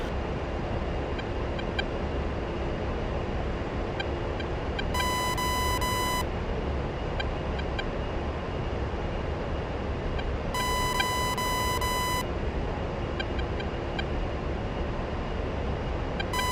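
Two steady electronic beep tones sound about six seconds apart, each lasting over a second, above a constant loud rumbling drone in a combat flight simulator game.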